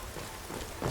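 Steady rain hiss from the video game Skyrim fills the whole second, a broad even wash with a slightly louder surge near the end and no talk over it.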